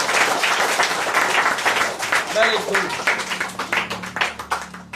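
Classroom applause for a student who answered a quiz question, steady clapping from a group of students throughout, with a teacher's brief spoken praise over it.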